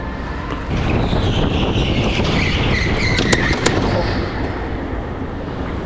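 Go-kart engines at an outdoor kart track make a continuous buzzing drone with a rising whine as a kart passes nearby, steady and moderately loud, with a couple of sharp clicks.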